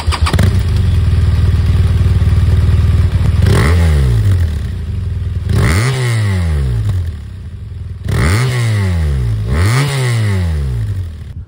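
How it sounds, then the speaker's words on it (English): BMW R1200 RT motorcycle boxer engine running loud and close, a low-pitched mechanical idle that climbs through several sharp revs, each rising and falling back, with no talking. "Let's listen to this engine, okay?"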